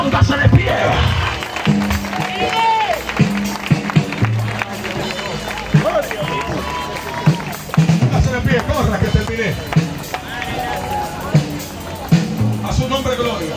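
A church congregation claps in a dense, continuous burst of applause, with music and many voices rising over it throughout.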